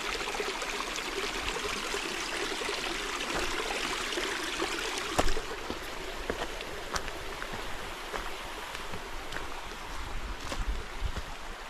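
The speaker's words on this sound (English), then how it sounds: "The trail is a creek." Shallow creek water runs steadily along a rocky hiking trail in the Arkansas backcountry on the Eagle Rock Loop, a continuous close rushing wash with no talk.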